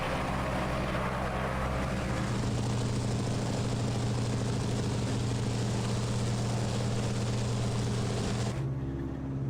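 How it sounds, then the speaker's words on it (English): A small vintage airplane engine drones steadily in flight, loud and close with a constant propeller hum, then cuts down sharply just before the end. "just based off of this engine, I think I want to fly this plane more. It sounds so nice."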